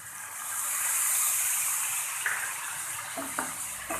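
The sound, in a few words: tablespoons of water poured into frying masala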